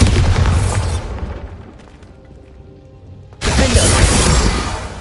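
Two loud booming Bombarda blasting spell explosions in a video game, the first decaying into a low rumble before the second erupts abruptly and roars on.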